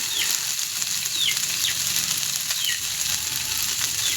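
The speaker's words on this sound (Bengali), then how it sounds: "আর এখানে আমি লাল লাল করে ভেজে নেব।" Cauliflower fries in a pan with a steady, close hiss of sizzling oil that holds evenly throughout, while a few faint bird chirps come through in the background.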